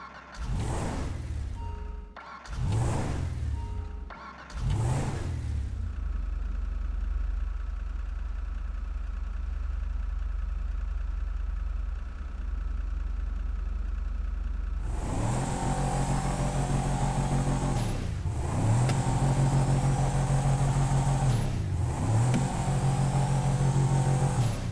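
Engine of a Benefactor Dubsta SUV in GTA Online: a few revving bursts, a steady idle, then repeated rising and falling throttle revs.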